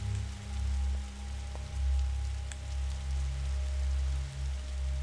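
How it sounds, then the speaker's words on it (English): Rain falling in the video game The Signifier, a steady, soft patter with a low rumbling bed and no voices. "Is that rain?"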